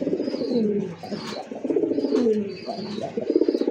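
Large pigeons of fancy breeds such as Madrasi, racer and satin coo steadily and close by at a pigeon market, with soft overlapping throaty calls repeating in pulses throughout.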